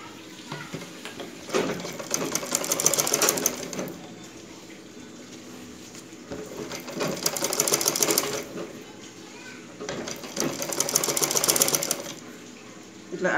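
A sewing machine stitches the front part of a blouse in bursts, with three long runs of rapid, even mechanical chatter separated by pauses while the cloth is adjusted, heard close and clear.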